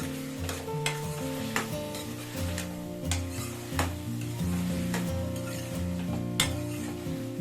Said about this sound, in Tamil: இப்போ உப்பு சேர்த்துட்டு நல்லா வதக்கிக்கலாங்க